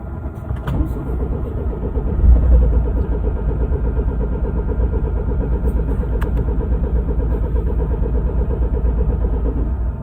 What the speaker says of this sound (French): Ça veut pas démarrer. Il fait moins 16 dehors.